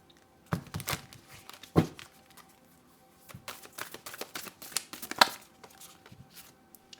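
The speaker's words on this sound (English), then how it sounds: "Geez, these cards are hard to shuffle" Tarot cards shuffled in the hands, a stiff deck riffled and slapped in several uneven bursts of papery flicks and taps, close and fairly quiet with no talk over it.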